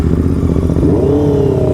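Honda CBR 650R and Continental GT 650 motorcycles accelerating side by side, a loud, close engine roar that rises in pitch during the brief burst.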